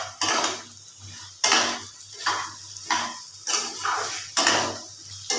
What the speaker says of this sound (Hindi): एबे हमें ताको हाई फ्लेम रे भल भाबे कखार आलू को कषि नबा